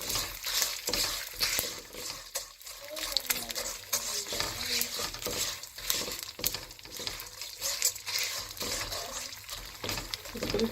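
Gondh, edible gum, fries and puffs in hot fat in a pan for punjiri, giving a busy bubbling sizzle with stirring scrapes throughout, close and fairly loud.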